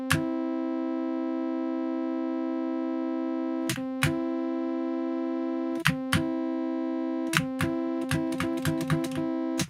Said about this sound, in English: But then there's a just major third